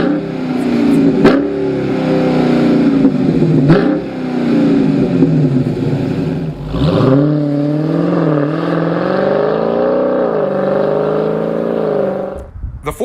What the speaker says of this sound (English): A nice low grumble on the Corsa Sport.